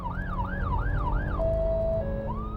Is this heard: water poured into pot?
no